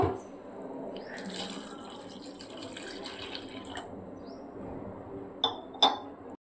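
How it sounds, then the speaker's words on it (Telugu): Water is poured into sour curd while making buttermilk stew, a soft continuous trickle and splash with a few light clinks of a vessel near the end, fairly quiet and without talk. "దీంట్లోకి కొన్ని వాటర్ కలుపుకుందాం"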